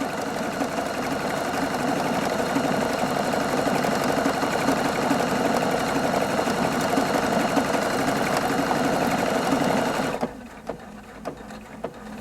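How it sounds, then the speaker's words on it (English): A Husqvarna Viking Opal 690Q sewing machine stitches at steady speed, its motor hum and quick needle clatter loud and close for about ten seconds before stopping, followed by a few faint clicks. "So once you do your combination, you just have to hit the start button, to start the machine sewing."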